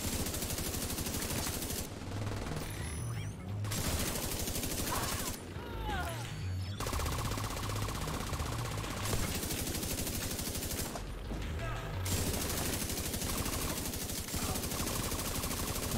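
A light machine gun fires in The Division 2, sustained loud automatic bursts broken by a few short pauses, with dense crackling shots running nearly the whole time.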